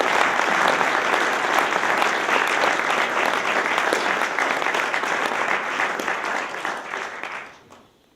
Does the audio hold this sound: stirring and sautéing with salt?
no